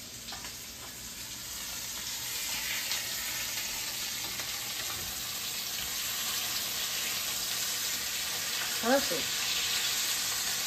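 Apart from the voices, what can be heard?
pork loin chops sizzling in a frying pan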